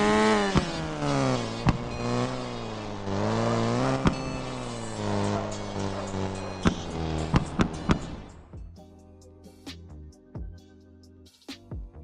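An off-road car driven across a snowy map in Hitman 3, its engine droning and revving steadily with tonal whine, then dropping away to sparse, sharp knocks and clunks.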